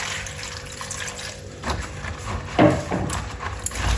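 Water runs and splashes into a bowl in a short pour while cooking okra, with faint clinks, fairly close and with no talking.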